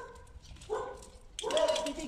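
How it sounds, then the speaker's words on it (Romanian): Puppies bark and yip from behind a fence outdoors, with short, fairly close bursts mixed in with a person talking. "au început niște cățeluși să latre"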